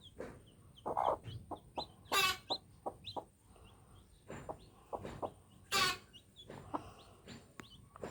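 Black chickens cluck in short, scattered bursts close by, with a couple of sharper, louder squawks standing out among the softer calls; no talking.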